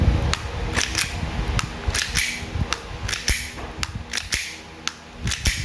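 An airsoft Glock pistol with a temporarily repaired loading nozzle fires BBs in a quick series of about fifteen sharp, close snapping shots, some in rapid pairs, with small clicks and rattles between them.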